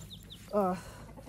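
A backyard chicken gives a single short cluck close by, with faint background noise around it and no talking.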